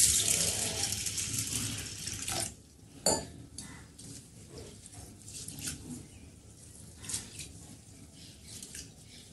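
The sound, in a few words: rinsing rice and toor dal in water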